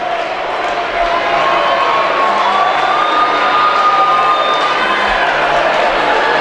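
Heartland Conference semifinal basketball crowd roaring and cheering during a comeback, a loud sustained wall of voices with shouts and whistles cutting through.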